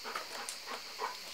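A dog at a pony club whimpering for attention: a few faint, thin whines in quick succession, close by in a quiet room.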